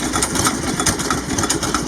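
A vintage gasoline stationary engine from around 1920 runs steadily at close range, its fast, even pulsing beat continuing without pause.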